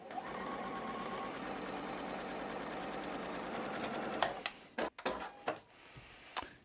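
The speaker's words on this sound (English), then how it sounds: "do yourself another 1/4 inch seam allowance" Sewing machine stitching a quarter-inch seam allowance on a quilt block, a steady rapid mechanical rattle lasting about four seconds before stopping, followed by a few sharp handling clicks and taps at close range.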